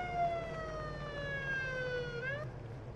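A police siren from the game Police Simulator: Patrol Officers wails steadily and loudly, its pitch sliding in a long sweep before jumping up near the end, over a low engine rumble.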